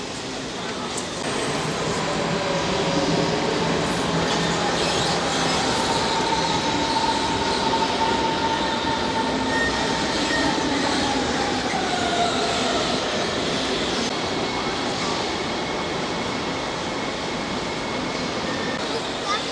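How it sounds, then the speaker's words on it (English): Trains rumble and roll through a station in Berlin, wheels squealing in long drawn-out tones over a constant mechanical roar, heard from some distance. "If I look down there you can just see trains way below us"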